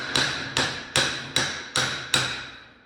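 A hammer strikes around the back of a ring gear on a 14 bolt differential during a regear, six sharp metallic taps at a steady, even pace, each ringing briefly before the next.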